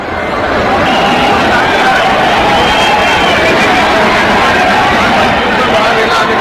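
A dense, loud crowd packed into Prayagraj railway station, with continuous babble of many voices and shuffling movement at a steady level throughout.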